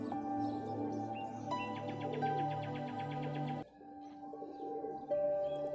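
Pet pigeons of a dry-footed flying breed at a pigeon club in Chishtian coo repeatedly, soft rolling calls overlapping close by, with other bird chirps mixed in and a brief drop in sound midway.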